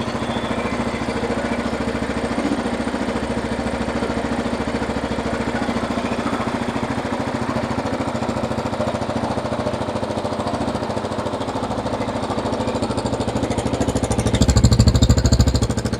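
A Kawasaki KLR650 motorcycle engine idling close by, a loud, steady, rapid mechanical chugging that holds an even level before briefly rising in intensity near the end, with no talking.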